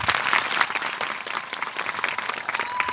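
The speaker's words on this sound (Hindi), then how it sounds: "एक अच्छी ताली प्रभु के लिए।" Steady, dense applause from a church congregation, clapping continuously and fairly loudly for the full stretch without any voice over it.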